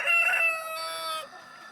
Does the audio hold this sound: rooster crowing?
yes